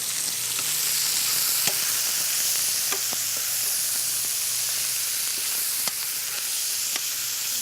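Meat sizzles steadily in a hot frying pan as it browns, a constant hiss broken by occasional sharp pops and crackles.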